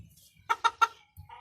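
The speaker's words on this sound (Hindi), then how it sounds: "ये है जी मेरे और मुर्गे" Three quick, loud clucks from a nearby rooster in a tight rhythm, with softer low grunts before and after.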